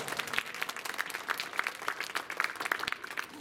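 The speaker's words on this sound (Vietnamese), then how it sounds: "Xin cho tràng vỗ tay cho ban ẩm thực ạ." Audience applause for the catering team at an anniversary arts performance evening of a Vietnamese Buddhist youth family group, with steady, dense clapping from a crowd throughout, moderately loud and without talk.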